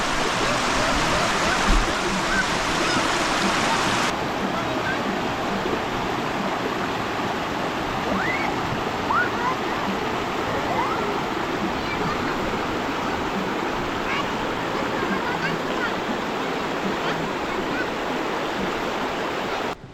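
A river flows beside the pool at Pangsalatan Camping Ground, a steady broadband rush of water running loud and continuous throughout, with a faint voice briefly audible near the start.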